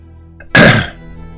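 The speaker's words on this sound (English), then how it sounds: "got a bit of a cough as I'm doing this" A single sharp, close cough from a man working on a tabletop terrain model, one loud burst in an otherwise quiet room.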